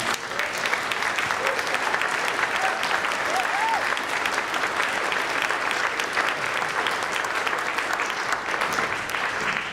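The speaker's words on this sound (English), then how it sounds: "you should applaud for that" Sustained applause from an audience at a college reunion address, dense steady clapping filling the room throughout, with faint voices and a few brief vocal sounds mixed in.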